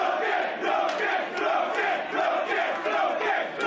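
A local crowd at a K1-rules kickboxing main event roars and cheers continuously, the noise rising and falling in loud surges with scattered shouts from individual spectators.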